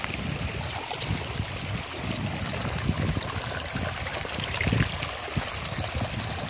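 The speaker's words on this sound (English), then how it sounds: "That's the water. Going down the road happily." Water flows down a road in a steady, rushing trickle that is moderately close and continuous, with no voices over it.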